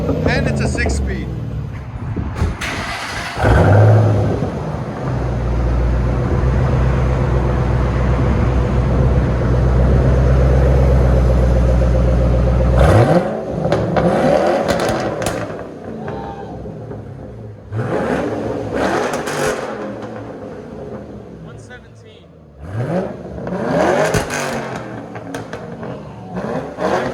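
Ford Mustang GT with a 4.6L V8 and six-speed, exhaust heard from inside the cabin: a sustained loud droning rev, then repeated rising and falling throttle blips, with people talking over it.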